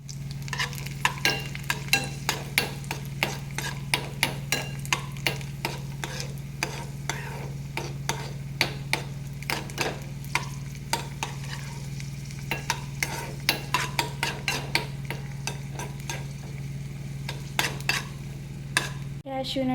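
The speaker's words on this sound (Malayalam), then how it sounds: "ഇതിലോട്ട് നമുക്ക് കാഷ്യൂ നട്ടും കിസ്മിസും ഇട്ട് ഒന്ന് ഫ്രൈ ചെയ്തെടുക്കാം." Cashew nuts and raisins fry in hot oil in a kadai while a paneer dum biryani is made. A constant sizzle runs under frequent sharp scraping clicks from stirring, with no voices.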